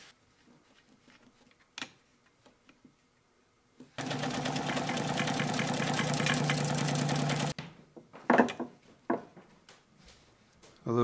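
A vintage 1960 German-made Kenmore 89 sewing machine runs a zigzag stitch in one steady, fast, whirring burst of about three and a half seconds, close by, framed by quieter clicks and handling noises before and after.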